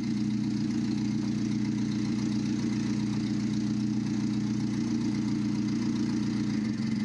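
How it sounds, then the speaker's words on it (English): A Nissan forklift engine, model CPF02A25V, idles steadily at close range, a constant mid-low drone with a fine regular pulsing that stays even throughout. A single word is spoken briefly. "So let's get this engine started up"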